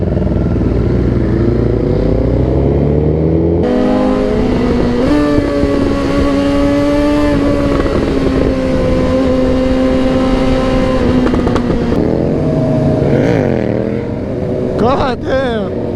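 A group of motorcycles rides close by, and their engines rev and climb in pitch as they accelerate, a loud steady drone running through the whole stretch.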